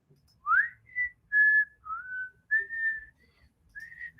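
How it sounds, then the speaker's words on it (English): A person whistles a short melodic tune of several sustained notes and slides, fairly faint and close, with no talking. "No whistling while we're live."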